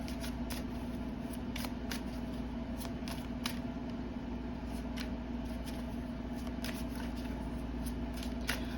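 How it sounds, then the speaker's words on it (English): Soft, rapid riffling and flicking of tarot cards repeating in short bursts over a steady low hum, close by, with no talking. "Now let me just shuffle the cards."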